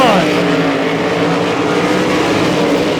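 POWRi 305 race cars roar loudly down the back straightaway at a dirt track during the Southern New Mexico Shootout, a dense, sustained engine drone with overlapping revs and no quiet moments.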